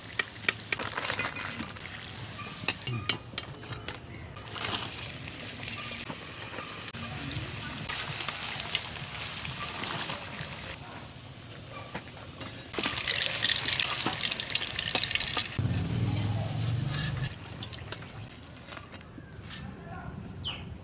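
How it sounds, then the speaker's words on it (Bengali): Mango gokul pitha frying in hot oil in a kadai makes a steady, faint sizzle and crackle that continues throughout, with occasional clinks and stirring sounds and a louder spell partway through. "এবার আমি তেলের মধ্যে এগুলো ভেজে নেব"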